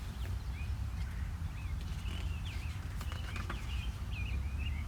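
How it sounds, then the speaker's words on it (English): Birds sing outdoors in a string of faint, thin chirps and short warbling phrases over a steady low background rumble, all heard from some distance. "maybe I'll just let the microphone pick up the birds in the end too"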